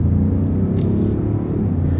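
A pickup truck drives along a country road, its non-V8 engine giving a steady, close, continuous low rumble with no pauses or sharp revs.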